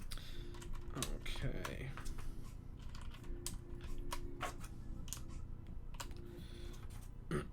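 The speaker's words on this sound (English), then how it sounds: "I'm holding down this side of the board while I put the other top keycaps on." Keycaps are pressed onto a mechanical keyboard, giving a run of sharp plastic clicks and taps at close range, scattered irregularly, while a voice briefly speaks.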